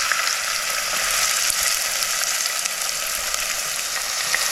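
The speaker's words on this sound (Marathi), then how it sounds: "हे बघा, तेल तापलं. आता आपल्याला कांदा टाकायचे आहेत." Onions frying in hot oil for a Konkan-style mixed vegetable curry, a dense, steady crackling hiss heard up close and fairly loud throughout, with no speech over it.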